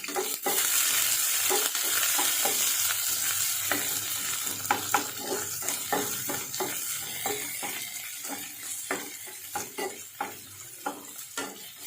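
Curry leaves and onion fry in hot oil, a steady close sizzle running throughout with frequent light scrapes and clicks of a stirring spoon against the pan.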